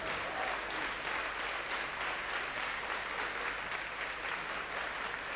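A crowd at a 1991 Dutch Open Kyokushinkai karate championship keeps up a faint, distant rhythmic slow handclap, the claps pulsing evenly beneath a hall's wash of noise.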